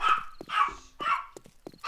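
A dog barks repeatedly at visitors, four or five sharp, close barks in quick succession with brief whimpery yips between them.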